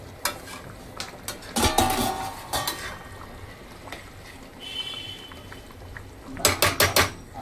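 A lid set onto a cooking pan of chicken kadai, a few sharp metallic clanks and rattles near the start and a quick burst of clatter near the end, with quiet kitchen noise between.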